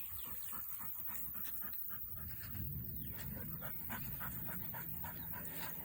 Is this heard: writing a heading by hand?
no